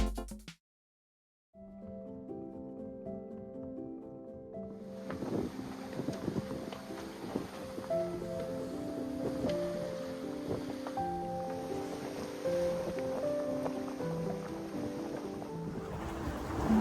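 A sailboat moves through waves in about 14-15 knots of wind at roughly 6.5 knots, heard as a continuous rush of wind and water with creaks and knocks on board, after a brief silent gap at the start.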